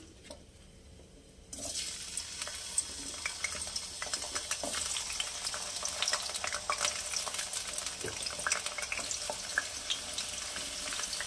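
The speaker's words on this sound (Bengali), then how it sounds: "তেল গরম হয়ে গেছে, এবার আমি এক এক করে সবজিগুলো ভেজে নেব। প্রথমে আলুগুলো দিয়ে নিলাম" Potatoes for a Bengali non-veg ghonto drop into hot oil, and after a quiet start a loud, crackling sizzle bursts in and keeps going steadily with scattered pops, no voices present.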